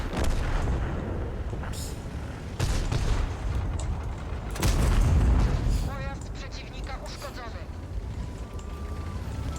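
Tank guns fire in the World of Tanks battle game, with several heavy booming shots and rumbling blasts spread across the clip, one especially loud and close midway, mixed with game effects and someone talking over them.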